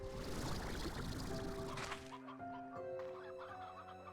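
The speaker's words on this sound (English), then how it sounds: "Oh, there's chickens out here." Chickens cluck in a video game, a busy flurry of close clucks and squawks that fades into a sustained tonal game sound.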